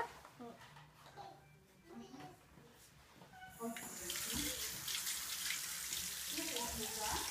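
Water starts gushing from a tap partway through and keeps running steadily into a sink as a child washes their hands, with the child and an adult talking softly beneath it.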